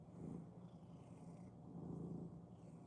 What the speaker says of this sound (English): He's my kitty cat.